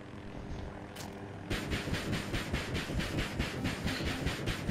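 A helicopter in the video game Battlefield 2042, a steady rotor chop with rhythmic pulsing that grows louder partway through, alone with no talk.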